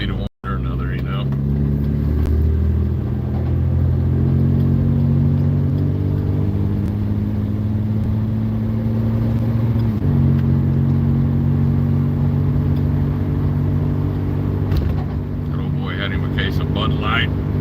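A 1974 Volvo car drives along the road, its engine giving a steady, low droning hum that stays loud and continuous throughout, with a brief shift in pitch midway.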